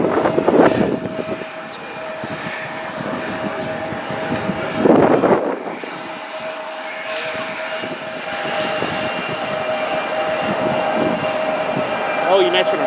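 A jet airliner at Raleigh-Durham International Airport rumbles steadily throughout, a broad sustained engine roar with a faint tonal whine, swelling at two points, while people talk nearby.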